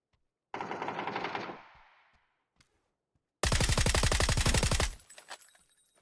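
Automatic gunfire in the shooter game PUBG: a sustained loud burst with fast, even shots, a short pause with a single faint click, then a second rapid burst that trails into jangling clicks.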